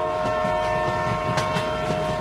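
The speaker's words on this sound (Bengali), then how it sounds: "ট্রেনের আওয়াজ পাইলাম কিন্তু ট্রেন নাই" A train in the Bus Simulator Bangladesh video game rolls past with a continuous loud rumble, a sustained horn tone and rail clatter, with no voices.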